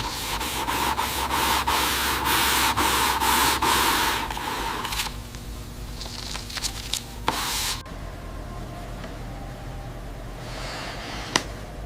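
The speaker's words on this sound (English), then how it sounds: "using a sanding sponge to reach the curves of the stern" Steady rhythmic scrubbing of a sanding sponge against the hard plastic stern of a toy aircraft carrier hull, close and continuous, with a few short rubbing strokes and faint taps afterward.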